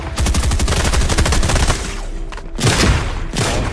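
Dense automatic gunfire in an online shooter, a sustained rapid burst that pauses briefly, then two more loud, close volleys of shots.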